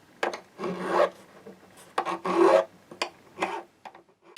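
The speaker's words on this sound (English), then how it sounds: "We dress our fret ends." A file rasps across the fret ends on a Martin JC-16RGTE Aura acoustic guitar in a series of close, short strokes that come in irregular bursts, each lasting about a third of a second.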